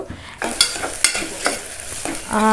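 Onions frying for a mutton curry, sizzling steadily in a pan while a spoon scrapes and stirs them in several sweeps, close up and with no voices.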